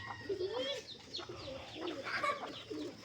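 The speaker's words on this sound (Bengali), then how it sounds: "কবুতরের বাচ্চা" Young pigeon squabs kept at home, nearly grown, give soft, wavering coos and faint calls. They sound quiet and close, with low background noise.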